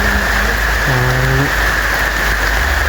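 Steady rain hiss fills the scene in a horror-themed setting, a constant broadband wash with a brief low tonal hum partway through and no talk over it.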